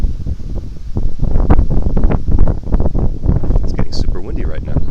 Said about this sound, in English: It's getting super windy right now.